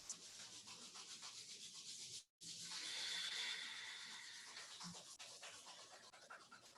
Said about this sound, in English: Bring your palms at heart center gently and begin to rub the palms.